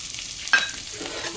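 Onions frying in oil and being stirred in a pan, a steady soft sizzle with one brief scraping stir, close and short.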